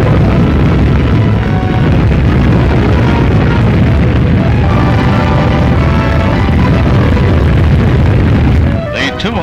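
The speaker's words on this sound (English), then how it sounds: "This first blast is on a level with bombs exploded over Hiroshima and Nagasaki" France's first atomic bomb test, a blast comparable to the Hiroshima and Nagasaki bombs, gives a loud, sustained rumbling roar that fills the whole stretch, fading slightly only near the end.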